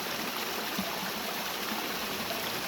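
Spring water flowing out of rock beside a Jamaican river, a steady broad rushing and trickling that is constant and fairly close, with no voices.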